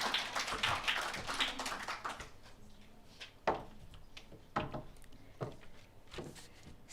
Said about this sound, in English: Let's give Taruna a huge round of applause